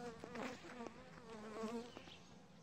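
Bees buzzing close by during beekeeping with a smoker, a faint but clear droning hum with several overlapping insect tones wavering in pitch, alone without talk.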